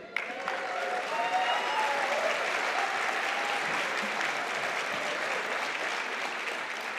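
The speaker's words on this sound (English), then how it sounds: "I would like to hear lots of rousing, clapping and cheering as our graduates come up for their awards" A large graduation ceremony audience at a university conferring applauds steadily, a dense, even wash of clapping that holds at a constant level for several seconds, with little cheering standing out.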